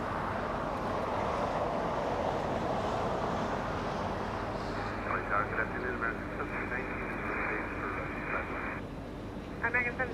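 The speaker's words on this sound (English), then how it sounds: "747 Korean Air." A Korean Air Boeing 747 comes in to land at Los Angeles International Airport, a broad, sustained jet roar with a wind-like hiss that shifts tone as the plane passes, while radio chatter and a voice talk over it.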